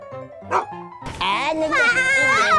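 A dog barks and yelps close by in a few sharp bursts, followed by excited voices talking and exclaiming over it.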